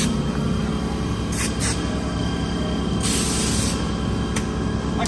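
Raptor liner coating sprayed onto a lifted truck, a continuous loud hiss with short bursts of stronger spraying, close by and without talk.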